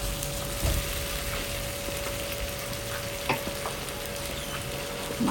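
Raw prawns stir-fried with browned onions for an egg and prawn curry, a quiet even sizzle with a steady tonal hum and a few faint stirring knocks.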